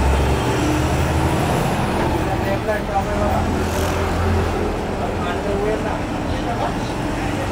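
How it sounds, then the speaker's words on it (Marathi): A Maharashtra state transport (MSRTC) ST bus on the Bhayander to Jalgaon route idles at a roadside stop, a steady loud diesel rumble with road traffic around it and someone speaking over the engine. "गाडी आलेली आहे काश्मीराच्या स्टॉपजवळ."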